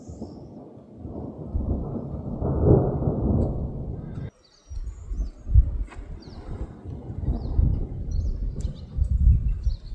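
Thunder rumbling from a lightning storm in the mountains: a long, deep low roll that stops abruptly, then fresh lower rumbles build and swell again, loud and close, with faint bird calls above.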